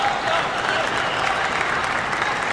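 Spectators at a China men's team table tennis semifinal cheer and applaud in a steady, dense wash of clapping and crowd noise heard from a distance, with no break.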